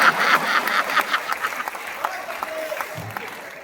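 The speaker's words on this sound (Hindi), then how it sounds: "ये होता है तालियों का पहाड़।" A large audience at a Hindi poetry recital (kavi sammelan) breaks into sustained, dense clapping that stays steady and fairly loud, thinning slightly toward the end, with crowd voices mixed in.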